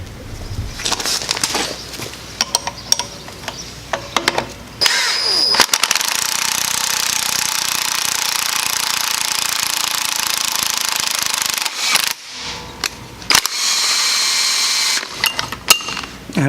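UPR 8.8 bushing removal tool pulling a penetrating-oil-soaked bushing out: loud, sustained harsh grinding and mechanical noise, close up, running for several seconds with short breaks, no talk.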